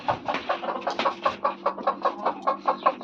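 Chickens cluck in a steady, rhythmic series of short calls close to the listener, with a faint low hum underneath.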